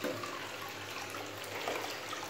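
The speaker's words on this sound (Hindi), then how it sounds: "पानी खुला हुआ लगता है, पहले पानी चेक करते हैं" Water running from a tap in a bathroom makes a steady, even rushing hiss throughout the short moment, fairly close, with no voices.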